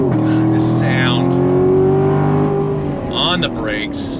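A 2019 Chevy Corvette Grand Sport in automatic mode pulls hard under acceleration, its loud engine note rising and holding steady up close, while someone talks over it.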